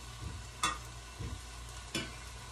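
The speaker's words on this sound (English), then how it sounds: "And then you're just going to slowly stir." Spoon slowly stirring mushroom and pea risotto in a pan, with a few soft scrapes spaced about a second apart over a faint sizzle, close and quiet.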